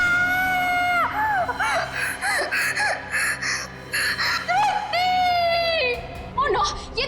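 A woman in a TV crime drama screams in terror from a nightmare, letting out repeated loud, high-pitched shrieks and wailing cries close up.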